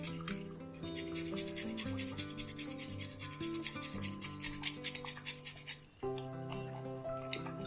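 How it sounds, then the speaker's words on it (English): Nutmeg is grated into a coconut-milk payasam, giving a steady run of quick rasping strokes, fairly soft and partly buried under continuous background music. "I'm grating in some nutmeg."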